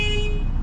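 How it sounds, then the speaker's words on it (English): Car horn sounding in a steady, loud held tone during a Florida driving test, with engine and road rumble underneath. "honk the horn"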